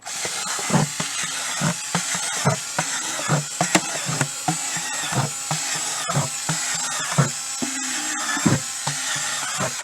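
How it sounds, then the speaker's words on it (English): A power drill whines in repeated short bursts, drilling drainage holes through a plastic bucket again and again at a steady pace, close by with no speech. "we're going to take a bucket and we're going to drill holes in it"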